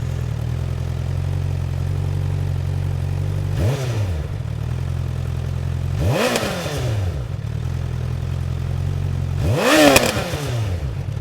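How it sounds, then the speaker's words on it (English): A Honda CBR1000RR sportbike with its stock exhaust idles steadily, then revs sharply three times, each rise and fall quick, the last one loudest. "The RR is going to come with the very standard Super Sport exhaust that we all know and hate."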